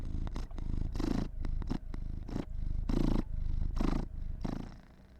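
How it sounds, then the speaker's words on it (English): A cat lying on a person's chest purrs close to the microphone, a loud rhythmic rumble pulsing in steady breaths over several seconds with no talking. "Can you hear him purr?"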